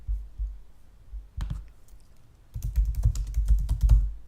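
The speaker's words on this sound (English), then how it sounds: "I'm going to type in button styles into the search field" Typing on a computer keyboard to enter a search query into a search field: a brief burst of key clicks, a pause, then a longer, denser run of steady clattering keystrokes close to the mic, with no voices.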